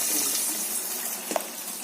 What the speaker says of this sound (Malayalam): കുറച്ച് വെള്ളം കൂടെ തിളപ്പിച്ച് ഒഴിച്ച്